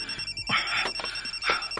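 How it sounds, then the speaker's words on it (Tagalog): A cellphone rings with a repeating electronic tone, pulsing in short bursts at moderate volume over faint room noise, with no one speaking. "Ako lang i-off ang akong cellphone."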